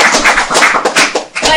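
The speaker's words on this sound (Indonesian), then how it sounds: "Nah, tepuk tangan untuk Univision." An audience applauds at a training seminar, a dense wash of clapping that continues steadily for a short burst with no other sound over it.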